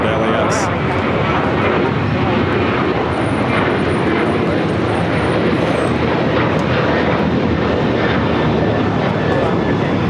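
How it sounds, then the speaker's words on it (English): An Alaska Airlines Boeing 737-900ER, flight 1083 to Seattle, departs LAX with a loud, continuous close jet roar filling the whole stretch, while people talk faintly underneath. "That was Alaska, Flight 1083 headed to Seattle, 737-900 ER."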